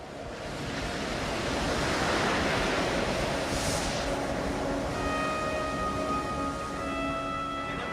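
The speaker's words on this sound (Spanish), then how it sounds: "El fuerte oleaje dificulta la navegación." Heavy ocean swell at sea near Friendship Island, a broad steady roar of surf and rushing water with wind noise across the microphone, loud and continuous with no voices.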